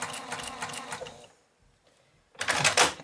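A sewing machine stitching a quilt block in a rapid, whirring burst, then a short pause and another quick burst of stitching, heard close and fairly clear.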